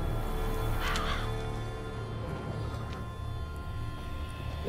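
Crows caw in a game world set in the Witcher 3 Blood and Wine expansion, a couple of harsh calls standing out early and more distant caws scattered over steady ambient noise, with no talking.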